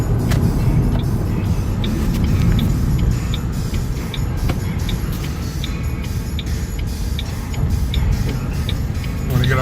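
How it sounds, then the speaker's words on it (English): A 2008 Vista Blue Shelby GT cruising along a road, its engine and tyre rumble a steady, loud low drone heard from inside the cabin with faint ticking above it. "I'll let you stay with me for a minute just to be riding in the car"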